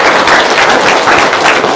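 Dense audience applause at a loud live event, a steady wash of many hands clapping close up for the full stretch with no talk over it.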